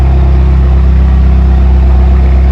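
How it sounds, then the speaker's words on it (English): A Porsche fitted with a loud custom exhaust idles close by, a deep steady rumble holding at constant volume throughout with no talk over it. "I don't know if you can hear me, but the custom exhaust,"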